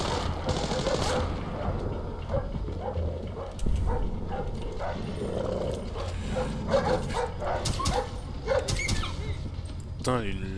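A dog barks in the stealth video game Tom Clancy's Splinter Cell Blacklist, giving repeated sharp yips and barks of moderate loudness, with someone talking over the game sounds.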